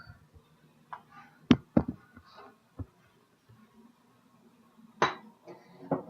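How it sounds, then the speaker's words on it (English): A bowl being grabbed and handled in a kitchen, a few sharp isolated clinks and knocks of dishware spread out with quiet gaps, close and moderately loud, with no talking. "I'm going to come over here and grab a bowl."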